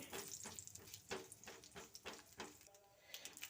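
A dry chili, a bay leaf and whole cumin crackle in mustard oil, a soft uneven sizzle with repeated little pops and stirring scrapes at a low level and no voices.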